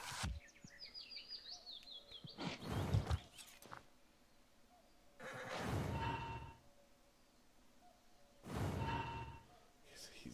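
A horse whinnies in the video game Black Book, a rising neigh followed by two more breathy snorting calls spaced a few seconds apart, clear and close over a quiet background.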